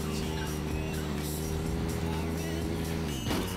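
Engine of a car being driven carefully in a video game, a steady low drone with harmonic hum throughout, briefly dipping near the end.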